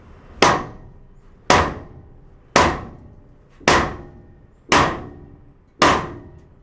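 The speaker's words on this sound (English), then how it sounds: "So let's see how a big ass hammer will help our situation." Six heavy, evenly spaced blows of a big hammer strike metal, each a sharp ringing clang with a short decay, close and loud with no talking.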